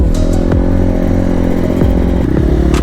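A motorcycle engine runs loud and close on an off-road gravel trail, a steady rumble with a couple of brief clattering knocks.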